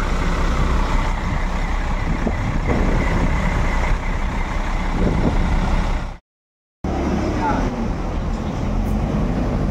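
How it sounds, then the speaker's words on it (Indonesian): Coach bus on a Hino Laksana chassis departing from a bus terminal, its engine giving a loud, steady low rumble that drops out for a brief silent gap before resuming. "Tidak lama bus ini juga akan segera diberangkatkan"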